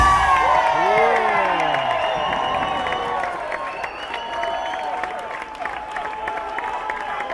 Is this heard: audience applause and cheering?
yes